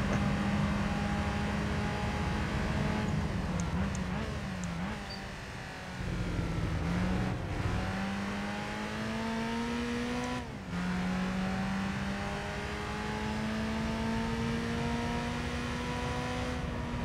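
Race car engine in Gran Turismo 3, revving hard and loud at close range through repeated gear shifts, with pitch rising and dropping steadily across the lap.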